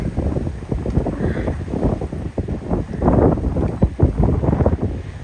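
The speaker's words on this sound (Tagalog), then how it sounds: "Sayang ang lakas ng hangin" Strong wind blows steadily across a rocky seashore on the Kita Nagano coast, roaring and gusting loudly into the microphone throughout with no voices.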